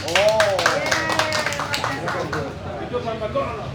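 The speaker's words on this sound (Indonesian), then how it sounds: "kasih tepuk tangan" A crowd at a Partai PRIMA gathering in Solo claps in quick rhythmic bursts for the first couple of seconds, mixed with cheering voices, then the clapping fades into loud talk and chatter.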